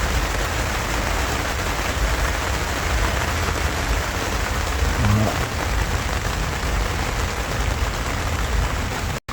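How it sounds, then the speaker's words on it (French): Steady rain falls in Tangier, the first rain in two months, a dense even hiss of drops on surfaces near a boat that stays constant throughout with no voices. "c'est la première pluie depuis 2 mois. À Tanger."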